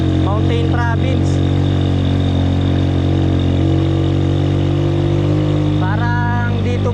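A motorcycle engine labours steadily up a mountain road near Mt Banahaw in Dolores, Quezon, a loud, close, continuous drone with a slight rise in pitch, while a voice speaks briefly near the start and end.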